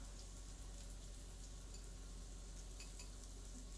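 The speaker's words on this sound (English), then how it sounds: "we're whisking this up, getting in here" Ingredients whisked in a bowl during home meal prep, a steady quiet scraping and stirring texture with faint rapid clicks running the whole time, no voices.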